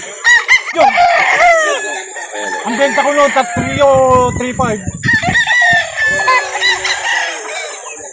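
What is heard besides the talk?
chickens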